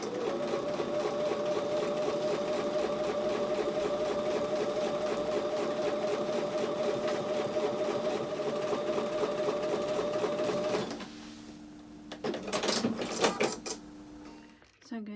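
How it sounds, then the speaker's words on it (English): A sewing machine runs steadily for about eleven seconds, stitching a quarter-inch quilt seam with a fast, even mechanical rhythm close up, then stops, leaving a few brief handling clicks and thumps. "I'm going to take this to the sewing machine and sew with a 1/4 inch seam"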